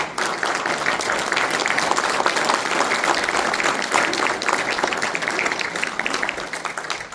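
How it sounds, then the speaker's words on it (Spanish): Loud, dense applause from a church congregation, many hands clapping together in a sustained roar that holds steady for several seconds before starting to taper. "Den un aplauso fuerte a Dios,"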